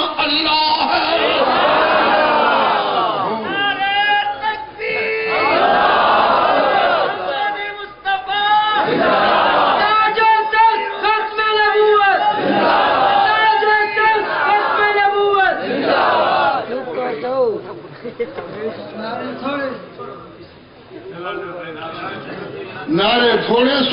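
A large crowd at a religious gathering roars chanted slogans in loud surging waves, with voices rising and falling together and brief lulls between calls.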